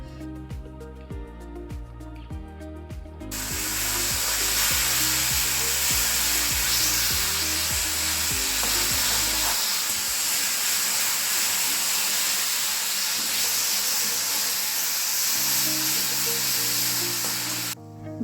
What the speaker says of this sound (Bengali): এবার তেলের মধ্যে দারচিনি, এলাচ, তেজপাতা এবং সামান্য পরিমাণ চিনি দিয়ে তার মধ্যে কাজু বাদাম, চারমগজ, পোস্তের করা পেস্টটিকে অ্যাড করে দিন